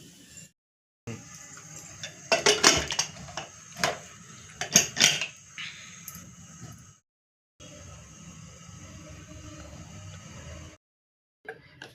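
Cooked dal being mashed in a pot after two pressure-cooker whistles: a run of metallic clinks and scraping bursts from the utensil against the pot, close up, with quieter kitchen handling in between.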